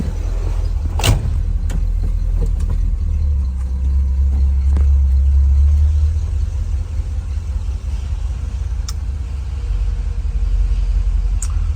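A 1955 Chevrolet Bel Air with power steering and an oil bath air cleaner pulls away on a cruise, its engine a steady, close low rumble with a swell of revving early on, alone without talk.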